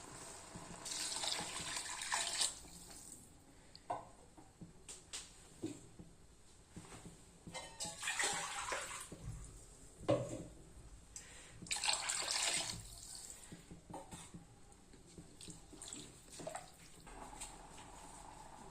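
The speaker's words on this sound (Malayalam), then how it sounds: "ഇതിലേക്ക് ആവശ്യമായ വെള്ളം മൂന്ന് ഗ്ലാസ് എടുക്കുമ്പോൾ ആറ് ഗ്ലാസ് വെള്ളം ഇതിലേക്ക് ആഡ് ചെയ്യണം" Water is poured into a cooking pot for pulao in a few separate splashing bursts, quiet and close, with short gaps between each pour.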